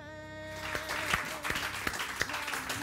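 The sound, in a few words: studio audience applause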